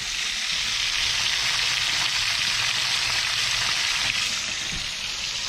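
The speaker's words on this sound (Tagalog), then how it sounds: "anim na piraso yung piniprito ko ngayon" Six round scad (galunggong) fish fry in a pan of oil, giving a loud, steady sizzle with constant crackling hiss. A few faint pops sound near the end, and no one speaks.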